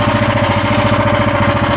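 A mini loader's engine runs steadily at idle, a loud, close, even chugging drone with a rough mechanical vibration throughout and no voices.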